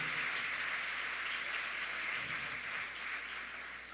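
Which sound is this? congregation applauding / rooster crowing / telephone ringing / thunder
congregation applauding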